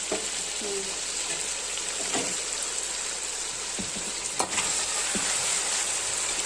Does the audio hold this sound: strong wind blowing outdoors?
no